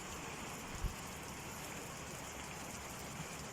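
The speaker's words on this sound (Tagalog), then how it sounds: "umulan na naman dito sa aming lugar" Continuous heavy rainfall with wind in Capiz, Philippines, a steady wash of noise, a low thump near the start, otherwise even and unbroken.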